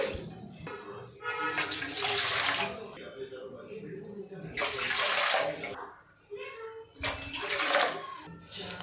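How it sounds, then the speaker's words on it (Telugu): Water poured into a bowl of maida flour in three separate bursts, splashing loudly, with a person speaking in the pauses between pours. "నేను ఐదు కప్పులు వాటర్ వేస్తున్నానండి"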